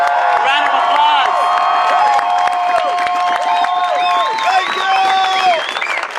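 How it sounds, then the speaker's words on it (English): A crowd at an outdoor demonstration in front of the Canadian parliament applauds and cheers loudly and continuously, with whistles and whoops over the sustained clapping. "Round of applause for them."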